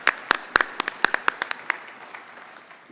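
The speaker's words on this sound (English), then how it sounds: "Let's give her a round of applause." A small audience at a federal election forum in Airdrie claps sparsely, giving about a dozen distinct close claps that thin out and fade over a few seconds.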